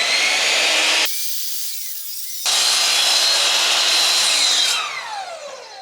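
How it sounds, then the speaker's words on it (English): A miter saw cuts straight across a wood panel. The loud, harsh, close whine runs for about a second, stops briefly, then roars again for a couple of seconds before winding down. "Now make a straight cut from that mark to the far opposite corner with your miter saw."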